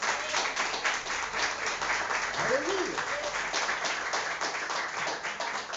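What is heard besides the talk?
congregation applauding in church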